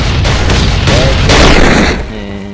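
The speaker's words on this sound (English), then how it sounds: "I'm gonna blow out this ceiling with 4 oil bombs" Four oil bombs detonating against a base ceiling in the survival game Last Island of Survival, a loud, dense run of overlapping blasts and crackling booms that rise to a peak before dropping off into a lower rumble.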